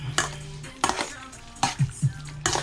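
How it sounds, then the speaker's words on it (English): Garlic being stirred in a cooking pan for pepper steak, with a few scraping, clinking utensil strokes against the pan over a soft sizzle, close and moderately loud. "I'm adding garlic. I am going to give it a stir"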